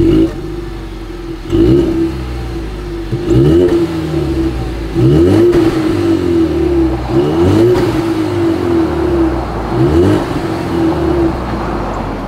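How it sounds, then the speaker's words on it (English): A 2020 Ford Mustang EcoBoost revving through its exhaust, loud and close, with repeated rising throttle blips and drops back to a steady idle drone between them, no voices. "As always, here is that exhaust clip."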